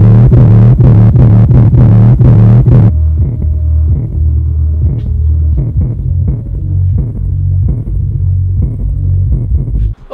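Phoenix Gold Z112AB V2 12-inch subwoofer pounding out deep, loud bass, first a dense throbbing burst and then a steady rhythmic thumping pulse that continues for about ten seconds.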